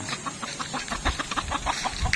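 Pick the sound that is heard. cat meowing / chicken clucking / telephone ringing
chicken clucking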